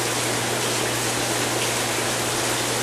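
A tabletop waterfall fountain in a showroom runs continuously, a steady broadband hiss of falling water with a faint low pump hum beneath, unchanging throughout.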